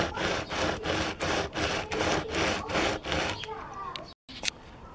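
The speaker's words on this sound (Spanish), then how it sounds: "Los bordes los lijo así un poco, ¿no? Agarro así la lija" Steady back-and-forth scraping strokes of sandpaper rubbing a glass edge, about a dozen rhythmic passes, then a few lighter scratches.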